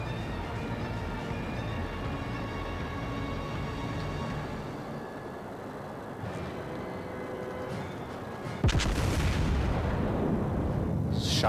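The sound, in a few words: naval gunfire shots in a warship video game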